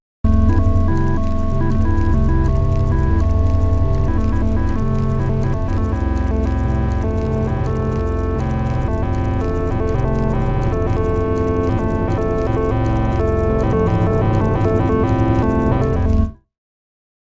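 A synthesized ambient arpeggio pad, a loud, dense, pulsing sequence of tones over a sustained low drone, playing continuously for about sixteen seconds, growing gradually grittier and more distorted before stopping abruptly.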